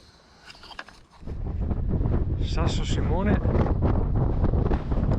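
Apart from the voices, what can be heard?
wind on a mountain summit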